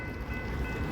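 A freight train rumbles past in a rail yard beside a lumber yard, a steady, dense low roar filling the short moment without pause.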